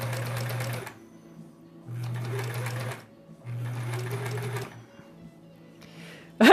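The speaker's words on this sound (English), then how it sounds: "usually I wouldn't be sewing this slow either" A sewing machine stitching quilt block pieces at a slow pace, running in three distinct whirring bursts of about a second each, separated by short pauses, close and clear.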